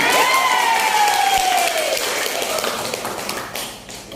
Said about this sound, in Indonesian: Nah, berikan tepuk tangan.